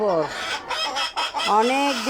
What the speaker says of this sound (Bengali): আজকে চলে আসলাম আমাদের প্যারেন্টসের মুরগিগুলো আপনাদেরকে দেখানোর জন্য।